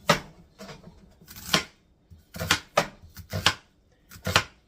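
A knife chops through onion on a cutting board in uneven bursts of crisp cuts separated by short pauses, close and clear, with no talk.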